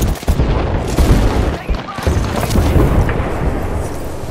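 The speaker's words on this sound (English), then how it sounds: "Throw my grenade out." Explosions and gunfire in a shooter video game after a grenade is thrown: dense, loud booms and crackling shots burst repeatedly in close succession, layered into a chaotic, continuous barrage.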